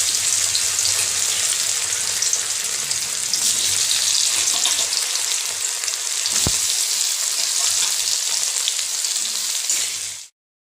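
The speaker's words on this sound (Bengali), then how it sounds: "আলু তেলের মধ্যে কয়েক সেকেন্ড নাড়াচাড়া করে দিলাম" Boiled, peeled potato pieces sizzling steadily in hot oil in a wok alongside peas and fried whole spices for vegetarian ghugni, a continuous close frying hiss with faint stirring scrapes, one sharp clink midway, then abrupt silence.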